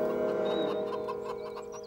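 Chickens cluck and murmur close by in a steady farmyard chatter, with a few higher bird calls scattered through.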